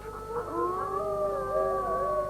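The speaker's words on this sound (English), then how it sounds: "there's a wolf just waiting for a chance to carry off one of the sheep" A wolf howls in the night near a flock of sheep, several long overlapping mournful tones rising and gliding steadily, clear and sustained with no talking.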